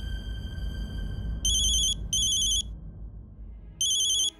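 Incoming call on a phone: three short bursts of a bright electronic ringtone over a low background hum, separated by brief gaps.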